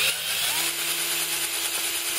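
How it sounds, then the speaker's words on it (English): A power drill runs steadily as it bores out the hinge on an Oztent/Rhino FoxWing tent, a close, continuous whirring grind with no speech. "I'm just going to start drilling that out, and hopefully it'll all just come out on its own."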